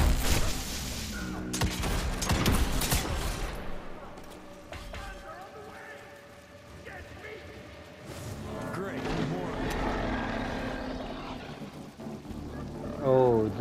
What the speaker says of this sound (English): Shooting at something, but I don't know what is it.